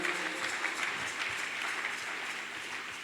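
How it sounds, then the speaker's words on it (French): A church congregation at a leaders' conference claps and cheers together, steady applause filling the hall from start to finish. "Est-ce qu'on peut acclamer la parole de Dieu?"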